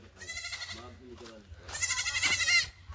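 A young goat kid bleats in a series of close, wavering cries at a home farmyard, with louder repeated bleats toward the end; people talk faintly in the background.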